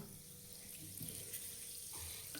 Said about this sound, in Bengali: চিনি আর জল গরম করে রেখেছি, এখন আমি ঢেলে দিলাম।